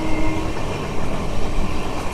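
The Karimnagar–Tirupati weekly superfast express with LHB coaches arriving at Srikalahasti station, a steady loud rumble of rolling wheels and carriages close by.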